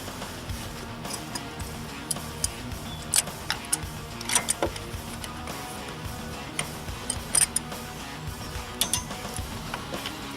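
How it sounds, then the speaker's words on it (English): A torque wrench tightens a bolt to 24 Newton meters while fitting an ignition advancer on a Kawasaki ZRX 1200, giving soft repeated ticking and a few sharp clicks over steady low background noise, with no talking. "So got it set to 24 Newton meters. And let's just torque it down."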